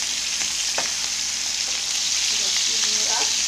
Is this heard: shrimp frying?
yes